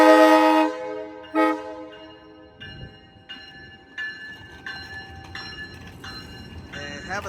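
Amtrak locomotive 8312 Mount Inyo on Capital Corridor train 728 sounds two loud, close horn blasts at Oakland Jack London Square station, followed by a run of evenly spaced ringing tones.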